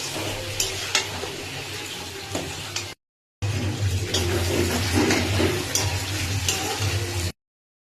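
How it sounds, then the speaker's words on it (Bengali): Potato and eggplant curry is stirred in a pan with fish oil, giving a steady frying sizzle and scraping broken by a short silent gap partway through. "মাছের তেলটা দিয়ে একটু সুন্দর করে নাড়াচাড়া করে ভালো করে নাড়িয়ে দিতে হবে তেলটার সাথে।"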